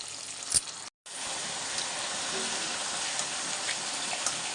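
Steady sizzling of green chilies frying in hot oil, with a brief pause near the start before the crackle resumes, continuous and close.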